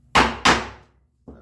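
A chisel chops down into walnut at a knife line with two sharp, close wooden knocks in quick succession, then a softer third tap after a brief pause.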